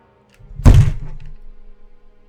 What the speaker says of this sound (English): That was the sound of my head hitting the desk